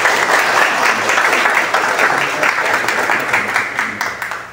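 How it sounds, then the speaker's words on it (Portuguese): Steady, dense applause from an assembled crowd at a party directorate inauguration in Jaguaripe, loud and sustained for several seconds before gradually tapering. "Umas palmas aí para Edmilson."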